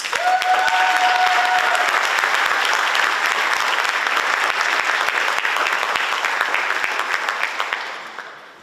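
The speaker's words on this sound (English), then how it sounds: "the crowd gives you a much-deserved applause" A crowd applauds award recipients at a senior awards ceremony: dense, loud, sustained clapping that holds steady, then tapers and fades away at the close.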